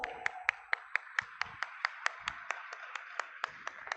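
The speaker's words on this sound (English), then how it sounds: "So give them a huge round of applause" Sparse, evenly spaced claps at a hackathon prize announcement in a university setting, about twenty sharp hand claps over four seconds, close and distinct, with no voices.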